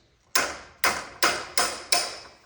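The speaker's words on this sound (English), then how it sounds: "I just tapped it with a hammer." Five sharp metallic taps from a hammer striking a wrench on the reverse-thread blade bolt of a Bosch 12-inch compound miter saw, evenly spaced, close and ringing briefly after each hit, with no talk.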